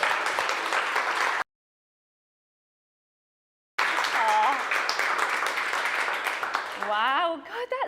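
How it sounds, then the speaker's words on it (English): A massive round of applause for remote Zoom rooms at a social purpose marketing event: dense, steady clapping from a crowd, broken by a sudden gap of silence, then resuming with voices and chatter mixing in toward the end. "Let's give all the 3 Zoom rooms a massive round of applause."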